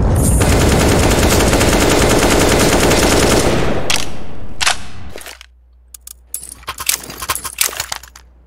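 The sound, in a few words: gunfire in Counter-Strike video game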